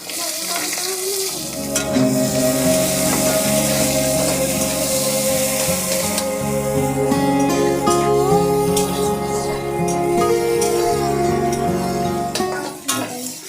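Chopped green chillies, onion and minced ginger fry in a pan for paneer cutlets with a loud, continuous sizzle and occasional stirring clinks, over steady background music.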